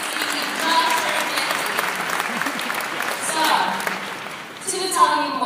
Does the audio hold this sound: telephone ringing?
no